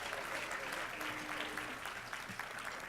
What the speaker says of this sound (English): Let's give them a round of applause as they perform.